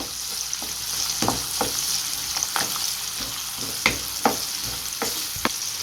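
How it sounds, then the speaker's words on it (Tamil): Chopped large onion sautéing in a pan for a cauliflower, peas and potato gravy, a steady close sizzle with the spoon knocking and stirring at irregular intervals, no voices. "இப்போ நான் ஒரு பெரிய வெங்காயத்தை அப்படி வெட்டி வச்சுருக்கேன் அதையும் இதில் சேர்த்துப்போம் நல்லா வதக்கி விட்டுருவோம்"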